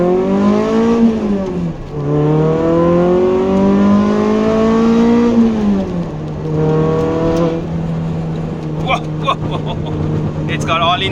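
A 1987 Toyota MR2 AW11 supercharged manual engine drones and revs up and down through the gears, its pitch rising and falling steadily, loud and close, with rattles near the end.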